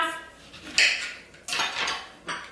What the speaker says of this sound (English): I'm gonna take my lemon, cut it in half